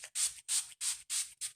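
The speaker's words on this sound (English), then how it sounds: "let me put some satin spray" Satin setting spray is misted onto a face in five quick, close, hissing spritzes with short silent gaps between them.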